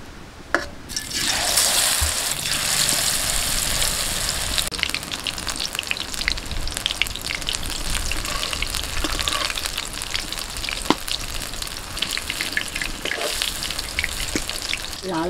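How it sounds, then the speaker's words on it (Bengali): Banana flower pakoras deep frying in hot oil, giving a loud, steady bubbling sizzle with crackling pops, heard up close for the whole stretch with no talking. "তেল গরম হয়ে গেছে, মোচার পকোড়াটা ভেজে নিচ্ছি।"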